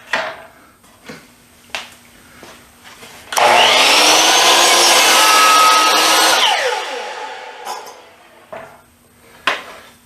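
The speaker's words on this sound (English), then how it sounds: "We're going to change the blade out to an Avante 60 tooth that's just been sharpened, and we're going to make a cut" A table saw with a freshly sharpened Avante 60-tooth blade crosscuts select pine. A loud, steady whine lasts about three seconds and then winds down, with a few workshop knocks before and after.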